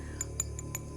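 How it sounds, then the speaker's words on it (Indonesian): Light glassy clinks and tinkles of broken glass shards, four short bright hits spaced across a second over a steady low hum, fairly faint and with no voices. "Ada suara pecahan kaca di situ."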